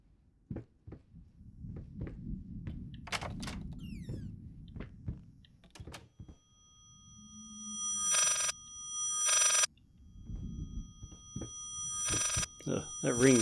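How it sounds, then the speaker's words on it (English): An old telephone bell rings in the horror game Layers of Fear, two long metallic trills and a third burst, loud and close, amid footsteps, creaks and soft game ambience. "that ringing noise is annoying."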